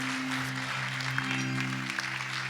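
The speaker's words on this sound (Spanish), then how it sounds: "Dele un aplauso al que vive para siempre." A church congregation applauds during a sermon, the clapping steady and roomy over a sustained low musical drone.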